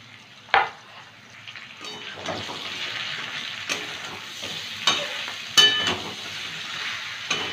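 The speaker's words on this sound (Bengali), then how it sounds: "এবার একটু কষিয়ে নেব।" Ground coriander, red chilli, Kashmiri chilli and turmeric are sautéed in a frying pan, sizzling steadily up close while a spatula clacks and scrapes against the pan several times.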